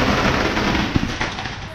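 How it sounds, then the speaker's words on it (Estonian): Firecrackers burst in rapid, dense crackling at a Thai temple, a loud continuous rattle of pops with a few sharper bangs standing out close by. "See on paugukorsten, et sinna pannakse valve paugutajad ja põhimõtteliselt nende paukudega sa tänad kõiki oma elus täide läinud soove"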